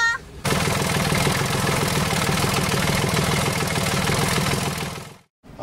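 A sailboat's inboard engine running steadily in gear at slow speed, a continuous droning rumble with rhythmic clatter, close and loud, cutting out abruptly near the end.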